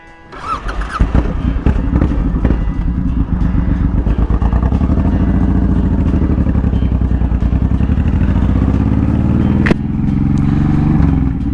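A Honda VTX1800 cruiser motorcycle starts up and pulls away, its deep V-twin rumble building into a loud, steady engine drone with a few clunks and thumps along the way, and no talking.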